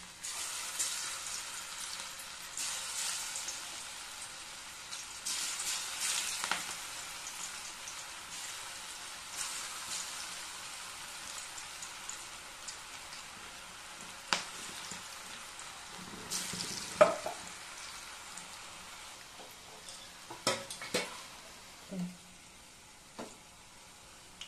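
Cauliflower pieces for Gobi 65 deep-fry in hot oil with a quiet, continuous bubbling sizzle, swelling at times, plus scattered sharp pops and spoon clinks, no talk.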